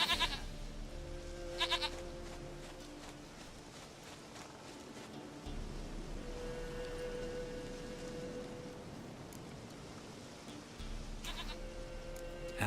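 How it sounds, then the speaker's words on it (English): A goat in The Witcher 3 bleats faintly against a constant wash of rain-like ambience and soft game music, with a couple of brief higher calls near the start and end. "Goat of mine, dearest, sweetest goat."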